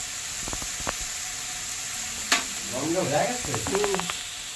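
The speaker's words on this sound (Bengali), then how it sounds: "একটু নাড়িয়ে দেবো।" Watermelon rind frying in a pan and being stirred, with a soft steady sizzle, a few light scrapes of the spoon near the start and a busier stretch of stirring and clatter toward the end.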